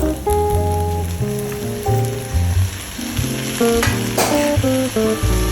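Masala with tomatoes sizzles steadily as it is sautéed for a Kerala-style prawn roast, a continuous crackling fry sound with occasional stirring, largely covered by loud background music.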